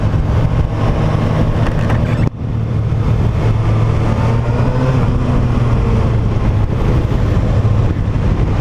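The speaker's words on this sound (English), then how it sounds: "It's got a good hum to it. It's not a loud bike." A 2019 Kawasaki ZX6R sport bike fitted with a Krapovich exhaust hums steadily while riding, a smooth, moderate engine drone with wind rush, briefly dipping once before settling back into a constant tone.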